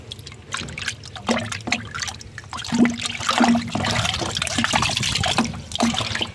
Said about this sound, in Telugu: దీన్ని మనం నీటిలో అయితే కలిపేసుకుందాం